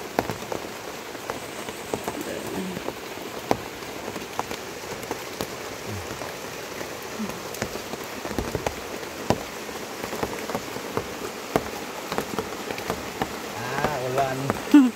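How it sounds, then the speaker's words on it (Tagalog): Steady rain falls on surfaces outdoors, a constant close patter with scattered distinct drops, and faint voices in the background now and then. "Ulan."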